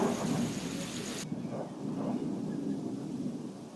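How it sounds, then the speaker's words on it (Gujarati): Steady rain and gusting wind roar continuously during a power cut, with a low rumble at the start that cuts off abruptly. "પવન ફૂલ છે, લાઇટ નથી, વરસાદ આવે છે, હવે શરૂઆત થઈ છે"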